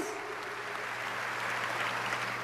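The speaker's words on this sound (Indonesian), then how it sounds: "Kita tepuk tangan buat Yesus Kristus" Church congregation applauding during a sermon service, a steady wash of clapping from many hands at moderate volume over a low hum, no talk.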